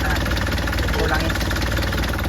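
An Isuzu 4HL1 diesel engine idles steadily and loudly, a constant close rumble with no change in pace, from an engine whose oil has been mixing with its coolant.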